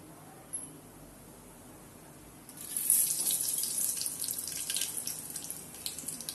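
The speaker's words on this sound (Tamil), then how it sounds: "கடுகு நல்லா பொரியுது பாருங்க" Mustard seeds spluttering in hot oil in a pan: after a quiet start, a close, steady sizzle with dense crackling pops sets in and keeps going.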